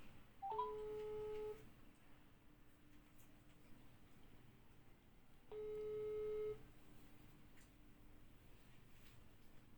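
Ringback tone of an outgoing phone call, two long tonal rings about five seconds apart with quiet hiss between them, heard fairly clearly and with no talk over the rings.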